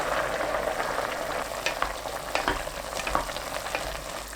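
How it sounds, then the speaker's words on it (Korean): Cut vegetables stir-fry in a pan over high heat for a curry, giving a steady close sizzle broken by scattered scraping and tossing sounds. "썰어둔 야채 넣고 센 불로 3분 볶습니다"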